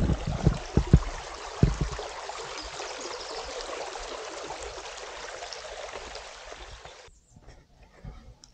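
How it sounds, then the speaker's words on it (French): A woodland stream flows steadily as a continuous broadband rush of water, fairly close and even, with a few brief knocks early on and the flow dropping away near the end. "Et on entend de l'eau"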